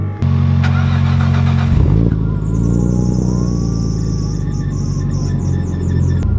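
Nissan Skyline R34 fitted with a titanium exhaust, idling with a low drone before the engine is blipped and revs rise into a loud, sustained roar close by.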